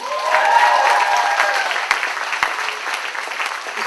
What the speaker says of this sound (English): Everyone give her a round of applause.